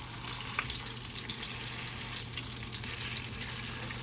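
Salmon croquettes frying in a pan until crisp, a steady dense sizzle and crackle with a low hum underneath, close and even throughout, with no talking.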